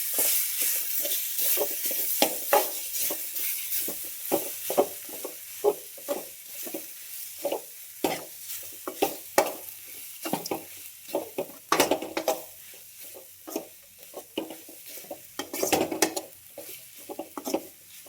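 Pieces of raw mango stirred and fried in a pan, with a spoon scraping and knocking in an irregular rhythm over a soft, steady sizzle and no talking.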